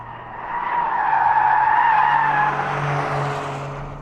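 A car engine revs hard with a whistling turbo whine and tire squeal, loud and continuous, as if driven fast on a track.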